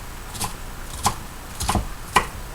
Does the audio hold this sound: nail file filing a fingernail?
no